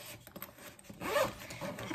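A pencil case zipper is pulled open in one close, quiet rasping stroke, preceded by faint handling rustles.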